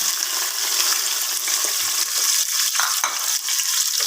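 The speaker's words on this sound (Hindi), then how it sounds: "ऑयल डाल के गरम कर लिया है। अब मैं इसके अंदर स्लाइस की हुई प्याज शामिल करूँगी।" Sliced onions frying in hot oil inside a pressure cooker, a steady close sizzle with soft stirring scrapes throughout and no voices.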